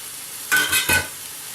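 Chilies stirred into sizzling Thai basil chicken in a hot pan, three quick scraping, hissing strokes in a row over a faint background sizzle, close and without talk.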